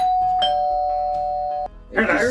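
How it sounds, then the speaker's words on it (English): A notification bell rings as a clear sustained chime lasting over a second, then fades as a brief burst of other sound follows. "Click that notification bell."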